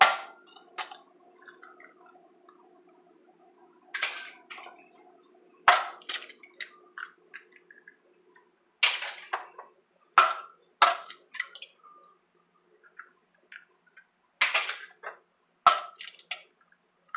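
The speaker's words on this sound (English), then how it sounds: "we are going to crack 6 eggs" Six eggs cracked one after another into a mixing bowl for a pumpkin French bake, a series of sharp, quiet taps and clicks with short pauses between them in a quiet kitchen.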